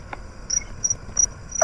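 A southern mole cricket calls outdoors at night, giving short, regular high chirps against a quiet background, fairly faint and with no voices.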